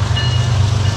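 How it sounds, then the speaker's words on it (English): A passing train close by, giving a loud, steady low rumble with a faint rhythmic clatter and a thin high whine above it, continuous throughout. "there's a train going by"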